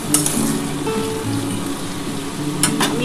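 A little water goes into white potatoes frying in a pan for aloo posto, a steady close sizzle with faint stirring and a couple of brief metallic clinks near the end.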